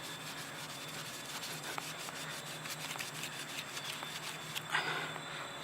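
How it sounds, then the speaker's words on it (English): A microfiber towel rubbing over a yellowed, coated plastic car headlight during a Meguiar's restoration, giving a steady, soft, close scrubbing hiss with a slightly louder swipe near the end. "I'm gonna clean them with the microfiber towel."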